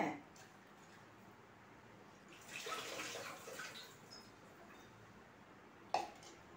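Water poured for washing in a home, a soft, fairly faint splashing stretch in the middle with a small sharp knock near the end; a voice talks at points.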